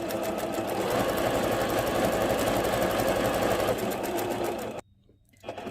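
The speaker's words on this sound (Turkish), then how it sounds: "Şimdi dikiyorum." A domestic sewing machine runs steadily, stitching fabric for a ruffled pillow, with a loud continuous whirring hum for almost five seconds before it stops abruptly, leaving near silence and then a faint resumption.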